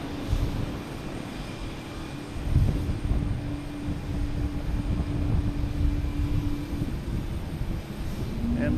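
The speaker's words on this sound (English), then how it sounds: "Next here we have a WestJet coming in from Calgary. 737 MAX 8." A WestJet Boeing 737 MAX 8 arriving from Calgary lands at Boston Logan, its engines a steady distant rumble with a faint sustained whine, holding level throughout and building slightly near the end.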